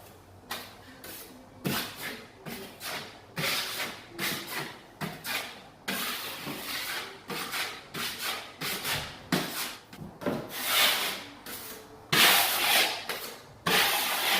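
Skim coat compound spread across a wall with a trowel or knife, rhythmic close scraping and rubbing strokes repeating steadily, with no voice.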